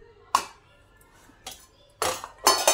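Cooked rice scooped out of a pressure cooker, a few sharp metallic clinks and scrapes of a utensil against the pot, spaced irregularly and close, with quiet pauses between.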